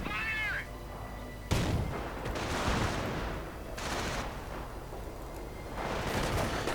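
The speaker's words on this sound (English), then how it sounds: "And we do see the mortar half-track as well firing." Mortar half-track fire in a World War II strategy game: a sharp blast follows a brief high whistling tone, then repeated dull thumps and crackling gunfire under a steady background din, with no talking.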